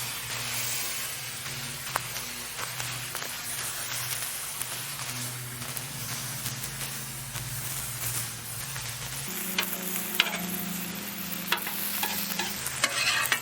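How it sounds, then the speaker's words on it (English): Beer brats and cabbage frying on a flat-top griddle, a steady broad sizzle with scattered scraping and flipping taps, close and continuous without talk. "Look at that, already starting to brown up, already starting to cook down"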